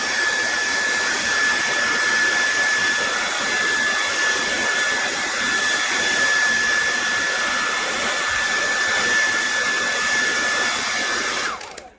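A heat gun blowing hot air onto a Google Pixel XL phone screen during a screen replacement, a loud, steady close-up whine and rush of air that runs unbroken before cutting off abruptly at the end.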